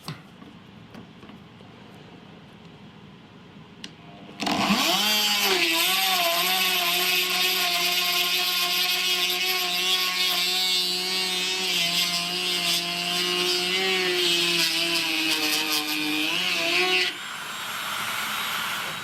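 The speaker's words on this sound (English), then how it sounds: "I'll drill a hole there and make a channel there" A power drill bores a hole in reclaimed fence wood for a guitar body. After a few quiet seconds a loud, steady, whining motor starts and runs for about twelve seconds, then cuts off.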